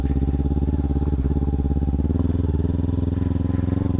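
Kawasaki Ninja 300 motorcycle ridden off road, its engine droning loud and close at steady revs with a rapid pulsing rhythm throughout.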